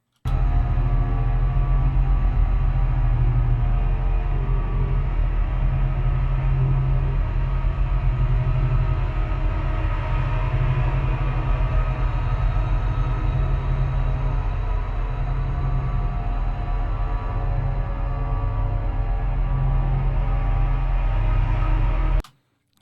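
Non-musical drone looped with a crossfade, a steady low rumbling wash like a passing train, sustained loud and unbroken until it cuts off abruptly at the end.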